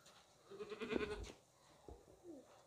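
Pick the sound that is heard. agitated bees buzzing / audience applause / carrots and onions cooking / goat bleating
goat bleating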